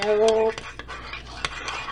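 A spoon scrapes and clinks against a bowl while chocolate pudding is stirred after microwaving, several short clattering strokes up close following a brief tonal hum at the start.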